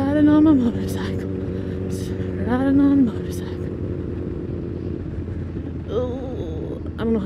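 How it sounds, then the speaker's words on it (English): A motorcycle hums steadily on a West Tennessee road on a clear morning, its engine drone and wind rush continuous while riders talk over it. "riding on my motorcycle."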